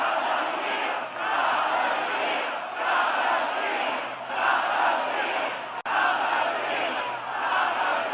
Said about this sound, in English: Take a listen as the crowd chants, "Stop the steal."